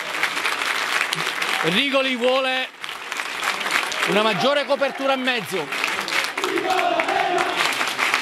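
A football stadium crowd applauds a substitution during the Sancataldese vs Akragas Italian league match. The sustained applause runs throughout, with someone commentator speaking over it.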